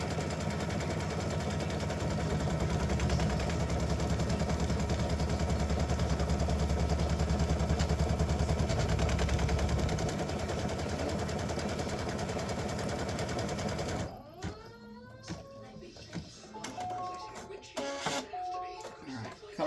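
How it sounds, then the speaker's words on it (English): An embroidery machine stitching a decorative fill on an in-the-hoop mug rug side panel, a loud continuous rapid mechanical rattle for about fourteen seconds before it stops, leaving quieter handling noises. "Color stop number 10 is going to stitch the decorative fill."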